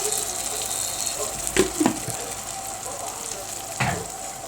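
Tomatoes spiced with hot pepper and garlic hit a hot pot for an okra tagine, giving a steady broadband sizzle with a few louder bursts and clanks as they are added.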